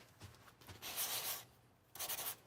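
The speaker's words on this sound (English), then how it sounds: "we're using 400 grit sandpaper" Hand sanding with 400 grit sandpaper on a van fridge stack face frame, giving soft, broad rubbing strokes in two bursts separated by a pause, close and moderately loud with no talking.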